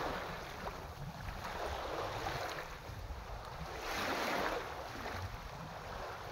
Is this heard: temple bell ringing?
no